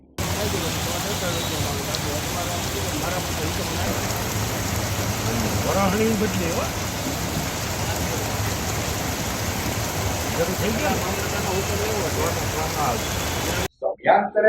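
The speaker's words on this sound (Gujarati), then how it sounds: "શનિવારે સવારથી શહેરમાં હળવા પારે ઝાપટા સ્વરૂપે વરસાદ વરસ્યો હતો" Light rain showers pattering on a surface in a city, a constant hiss throughout with faint scattered drops, ending abruptly with a brief clatter.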